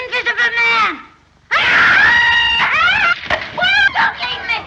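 An actress screaming in the 1933 film The Invisible Man, a loud, shrill, wavering female shriek broken by a brief pause, then rising again in long piercing wails with quavering pitch.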